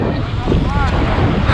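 A strong southerly storm wind roars at the sea off Anapa, buffeting the microphone in a loud, continuous rush with surging gusts and wave noise beneath.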